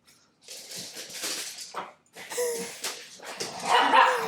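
A dog barks, yips and whimpers repeatedly in a room where a podcast is being recorded, the sounds coming in bursts over about four seconds, loudest near the end.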